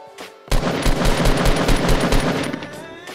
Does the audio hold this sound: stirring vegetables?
no